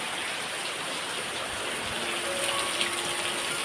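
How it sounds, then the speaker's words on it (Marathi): Heavy monsoon rain pours down steadily in the Konkan countryside at evening, a dense, unbroken hiss close by with no voices and a slight swell near the end. "पाऊस लागतोय मुसळधार."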